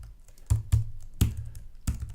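Typing on a computer keyboard, with four or five distinct, fairly loud key taps spaced irregularly, close up over a quiet room background with no talk.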